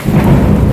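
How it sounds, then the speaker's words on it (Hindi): Heavy rain pours down in a loud, steady wash with a deep thunder rumble beneath it, filling the whole brief moment with no voices. "बारिश हो रही है बहुत तेज बारिश"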